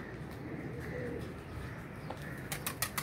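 Young trained pigeons coo softly beside a faint background hum, with a short burst of wing flapping near the end.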